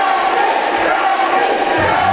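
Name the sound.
wrestling crowd cheering for Aaron Matthews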